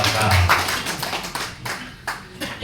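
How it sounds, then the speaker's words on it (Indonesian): An audience gives a steady round of hand clapping for a visiting regional council delegation at a formal reception, a dense, fairly loud patter that fills the room with no clear talk over it. "tepuk tangan untuk DPRD Malaka"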